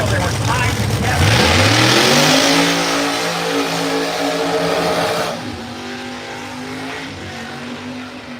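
A 1968 Chevrolet Camaro Pro Mod roars down a drag strip at Bradenton Motorsports Park, its loud engine note climbing steeply under hard acceleration before dropping away to a fainter, lower drone.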